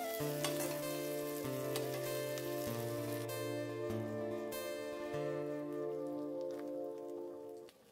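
Steady loud sizzling of tempering spices and turmeric frying in hot oil in a pan, with a continuous crackle and occasional stirring, no talking.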